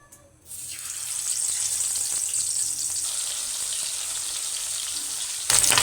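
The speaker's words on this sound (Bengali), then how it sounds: "এবার আমি মাছ ভাজার জন্য তেল দিয়ে দেব" Hot oil in a kadai sizzles steadily for frying bata fish, a dense, continuous hiss that starts after a brief quiet moment and holds at an even, close level to the end, with a louder burst in the final half second.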